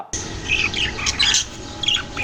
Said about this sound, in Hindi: तोते रंग बिरंगे, कहाँ से लिए थे ये तोते?